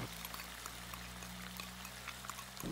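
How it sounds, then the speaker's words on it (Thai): Sauce poured into a hot pan of stir-fried pork, a short steady stream of liquid for a few seconds under a low background hum. "ขั้นตอนนี้เราใส่น้ำซอสลงไปเลยครับ"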